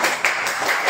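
Students in a classroom clap together in a short burst, the claps quick and close with no talking.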